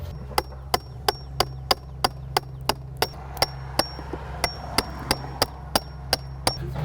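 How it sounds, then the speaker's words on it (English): Steady, evenly spaced sharp blows, about two per second, as a chisel is struck to cut exterior window trim flush, close and crisp over a low constant hum. "I'm just gonna get a chisel and chisel that off even with this right here"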